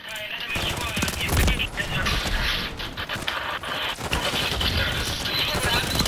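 A WSP Stinger submachine gun fires fast, continuous rattling bursts in a Warzone multiplayer match. The rapid shots are close and loud, with brief pauses between strings.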